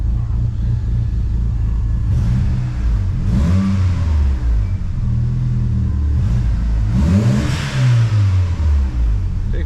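A 1997 Mitsubishi Eclipse GS-T engine is revved repeatedly, with loud close rumbling blips rising and falling in pitch over a steady idle.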